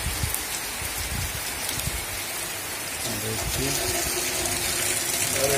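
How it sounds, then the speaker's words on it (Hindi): Heavy rain pours during a storm in a village, a dense steady hiss with louder rushing patches, and a voice talks faintly over it toward the end. "बहुत जोरदार बारिश आंधी तूफान के साथ शुरू हुआ।"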